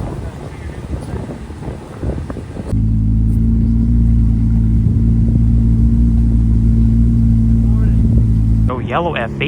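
Pair of Ferrari 812 sports cars passing during a fall cruise through a small town, a loud steady engine roar with heavy wind buffeting on the microphone, lasting several seconds before easing off.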